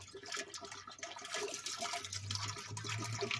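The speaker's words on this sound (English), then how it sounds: "We're going to pour in our hydrogen peroxide first." Hydrogen peroxide pours from a jug into a container, a steady splashing gurgle of liquid that grows fuller and deeper as it fills.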